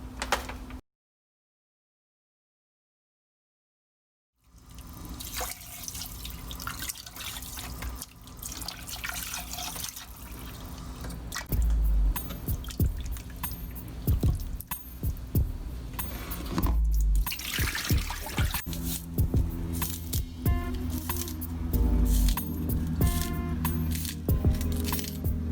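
Water runs and splashes into a bowl as peas are rinsed for Jamaican-style oxtail, a steady wet rush close by with intermittent clinks and drips, alone without talk after a brief silent gap.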